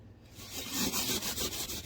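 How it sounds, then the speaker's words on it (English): Scrubbing of oven glass with Norwex power cleaning paste, a steady gritty rubbing that lasts about two seconds, close and fairly loud, with no talking over it. "I'm going to go ahead and scrub"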